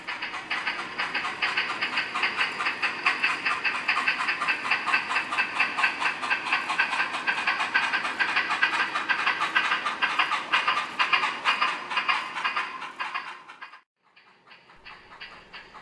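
Steam locomotive 9061 labours up Sherman Hill, a loud, rhythmic chuffing exhaust that pulses steadily for about fourteen seconds before cutting off abruptly, leaving quieter rumble.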